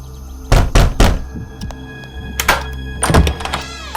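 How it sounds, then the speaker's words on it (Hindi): A door is slammed shut again and again inside a house, giving heavy wooden thunks: two quick bangs, a third, then two more loud slams after a short pause, with faint rattles between them. "दरवाजा बार बार बंद कर दे रही है।"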